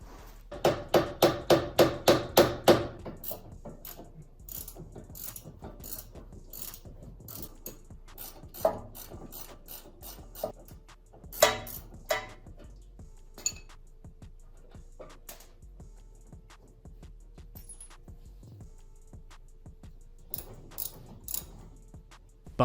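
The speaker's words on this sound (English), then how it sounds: "I'm just gonna show you me ripping off the rubber bushings" Metal tools hammer, pry and ratchet at rubber bushings on a Datsun 280Z's front suspension, starting with a quick burst of sharp ringing blows, then scattered knocks and clicks over quiet workshop background.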